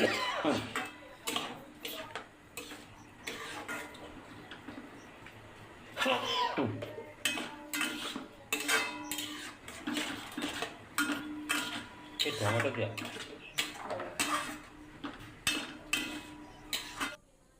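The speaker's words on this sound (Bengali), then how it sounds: "মশলাটা বেশ কষিয়ে নেব।" Spice paste for chicken keema with tomato and a little water is worked in a kadai, producing rapid repeated metallic scrapes and clinks of a spatula against the pan in bursts, with a voice underneath at times.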